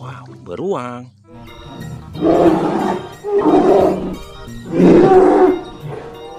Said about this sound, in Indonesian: Wow, beruang.